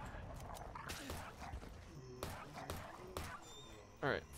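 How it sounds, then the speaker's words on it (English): Dogs in the horror video game Nightmare of Decay yelp and whimper in short bursts over a steady game background, with a sharper high whine near the end. "That sounds like dogs."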